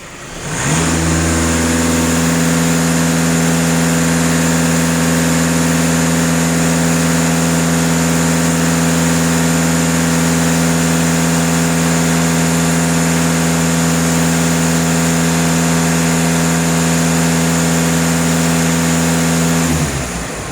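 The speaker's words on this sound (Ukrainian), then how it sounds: "На холостих 0 даю газ в пол." A Volkswagen Passat B8 with a 2.0 TDI diesel engine runs close and loud, with a steady droning hum held evenly for about twenty seconds.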